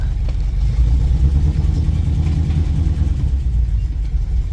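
A transport truck's engine idles with a heavy, low, steady rumble, loud and close throughout with no pauses.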